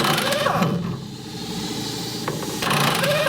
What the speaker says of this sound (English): I'm going to have to try and spin the bolt using the impact gun